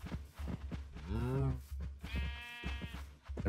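Sheep bleat in the video game Minecraft, with several wavering, drawn-out bleats heard over someone talking throughout.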